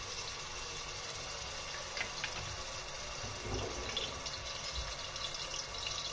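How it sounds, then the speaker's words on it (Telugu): Ginger garlic paste fries in hot oil for a chicken curry, giving a steady, even sizzle that holds throughout at moderate loudness without talking. "ఆయిల్ వేడెక్కిందండి. ఇప్పుడు దీనిలో అల్లం వెల్లుల్లి పేస్ట్ వేస్తున్నాను."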